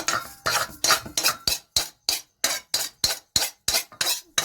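Roasted semolina is scooped from a kadai into a bowl, a steady series of about a dozen rhythmic metallic scrapes and taps, evenly spaced and close.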